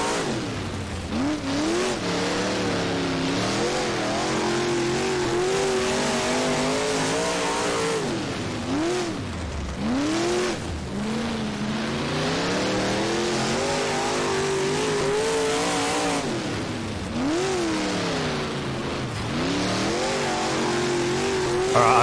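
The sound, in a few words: race car engines in rFactor video game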